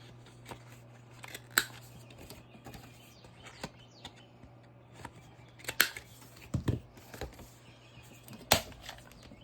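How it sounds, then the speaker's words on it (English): Scissors snip through Tim Holtz paper in several sharp, separate cuts spaced a few seconds apart, close and quiet against a faint steady hum. "Let's cut it up to this line here."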